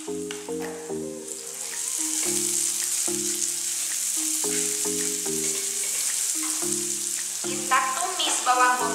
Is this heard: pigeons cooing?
no